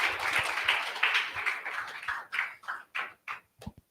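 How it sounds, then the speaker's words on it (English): Meetup audience applauding a speaker, a dense burst of clapping that thins into a few scattered claps before stopping. "So give it a round of applause for Shubhodeep"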